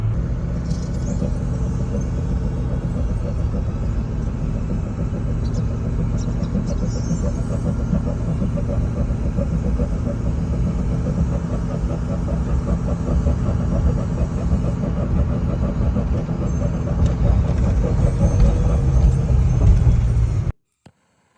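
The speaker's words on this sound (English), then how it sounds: "you can hear how the truck was running" A Ford 6.0 diesel pickup engine with a clogged exhaust back pressure tube runs steadily, a loud, continuous low rumble heard close up with no talking, cutting off abruptly at the end.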